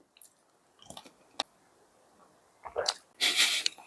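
Dried filefish jerky, eaten alongside red wine, is bitten and chewed up close in a few scattered crunchy, wet bursts with quiet gaps between, ending in a louder chewing spell.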